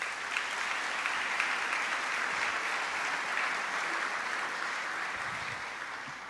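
Audience applause at a Pride brunch speech, a steady, fairly distant roomful of clapping that holds evenly and then begins to fade, with no talk over it.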